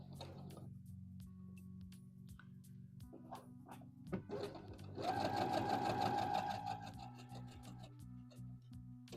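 A sewing machine stitches a seam on a McCall's M8141 dress. After a few soft handling sounds, a loud, steady motor whirr with fast needle clatter runs for about three seconds, then stops.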